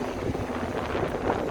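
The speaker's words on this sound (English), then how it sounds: "It's getting a little bit more windy here." Wind gusting along a downtown Chicago street near Huron and Michigan, a steady broadband rush with low rumble buffeting the microphone throughout, no talk.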